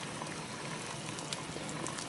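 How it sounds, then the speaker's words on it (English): Sugar syrup boiling hard in a pot on the stove gives off a soft, steady bubbling hiss with faint pops, low in level and unbroken by speech. "This is pretty hot, so you want it to boil like that."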